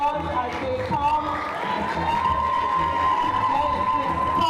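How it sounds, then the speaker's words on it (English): An audience at a high school valedictory service applauds and cheers as teachers come forward, a steady crowd roar with scattered claps and whoops beneath a voice speaking over a microphone. "give your teachers a round of applause as they come"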